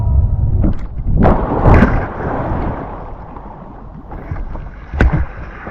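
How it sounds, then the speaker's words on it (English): A rider tumbles off the back of an electric hydrofoil board into open water, a heavy splash and churning slosh rising over steady wind and water noise, then a second smaller splash. "pushed myself off of the back of the board, and I fell off, going off the back of the board"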